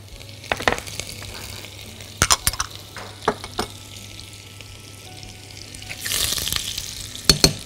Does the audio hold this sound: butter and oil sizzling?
yes